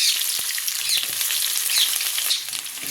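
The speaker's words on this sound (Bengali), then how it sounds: "পেঁয়াজটা ভাজা হয়ে গেছে," Onions sizzle steadily in hot oil, a loud crackling hiss with occasional soft stirring scrapes.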